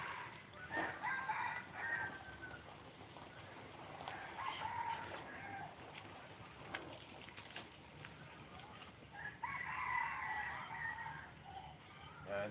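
Backyard chickens cluck and call at moderate distance, with a couple of drawn-out crowing phrases rising near the start and again toward the end, over a steady outdoor hiss and no talking.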